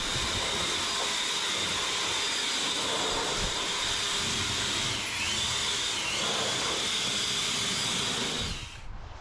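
An air blower hisses steadily and loudly as it blasts debris out of the plastic bed of a Tesla Cybertruck, holding a continuous rushing roar that dips briefly midway before cutting off at the end.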